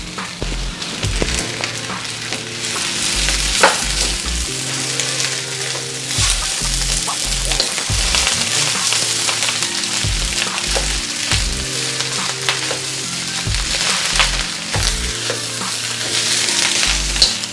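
Shrimp fried rice with eggs stir-fried in a pot, giving a steady loud sizzle with a repeated scrape and clack of the utensil against the pot, with no voices.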